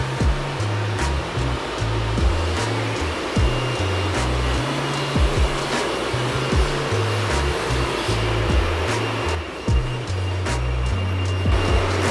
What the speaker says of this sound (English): Currently polishing a 4-blade Gorofold propeller.